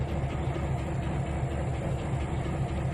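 Train engines rumble in the Trainz 2019 railroad simulator, several locomotives idling and running together as a deep, continuous low drone with a steady mechanical hum and no voices.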